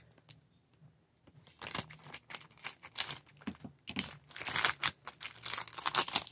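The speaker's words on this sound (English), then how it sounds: "I'm gonna have to cut this bag open because it's like stuck in there" Stuck plastic bag cut open with scissors, starting with near silence and then a dense run of crinkling, snipping and rustling that grows louder and busier toward the end, close to the microphone.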